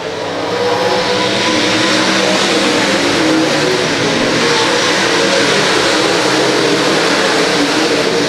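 Race cars lapping a short oval at L A Raceway on a Friday night, engines roaring and revving continuously in a dense, loud wall of sound as the field circulates nearby, with no break.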